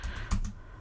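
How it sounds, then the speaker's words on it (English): A few quick computer keyboard key presses, including a tab keystroke, land as soft close clicks over a quiet room. "just typing the first couple of letters and pressing tab, so I don't have to type all the letters here"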